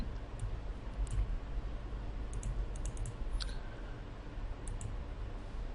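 A computer mouse clicks a few times, faint sharp ticks scattered over a steady hiss of background noise, with no one talking.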